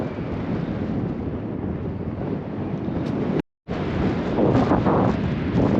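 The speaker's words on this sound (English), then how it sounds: "it is super windy out here" Strong outdoor wind buffets the microphone in steady, loud, broadband rumbling gusts, cut by a brief dropout near the middle, then resuming with rougher bursts.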